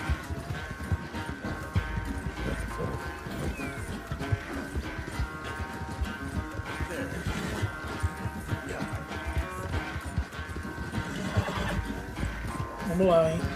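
Arabian thoroughbred racing in Red Dead Redemption 2, with hoofbeats and a few whinnies heard through a dense, steady game mix of music and ambience, and a voice talking over it now and then.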